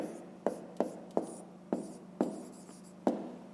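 Pen or pencil writing numbers by hand on paper during a fifth-grade math exercise, heard as several short, close scratchy strokes at an uneven pace with no talk.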